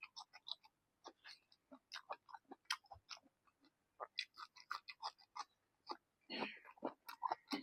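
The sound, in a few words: chewing while eating crab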